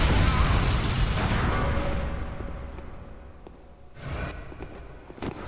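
A deep cannon boom in the video game Bloodborne rolls out at the start and fades away, followed by a softer whooshing burst and a sharp pop near the end.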